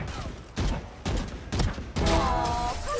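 Gunshots in the video game Valorant, four or five sharp single shots spaced about half a second apart, fairly close and loud, followed by a ringing tonal effect.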